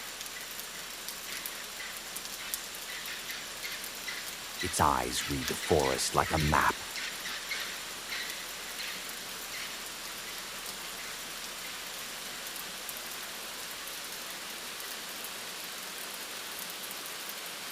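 Steady rain falls through the Amazon forest in a storm, a continuous soft hiss throughout, with a narrating voice speaking briefly near the middle.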